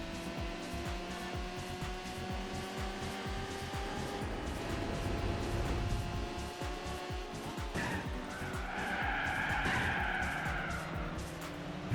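Car tires skid and squeal as a light race car slides through a corner in Gran Turismo 4, a sustained screech over the engine drone that swells and fades.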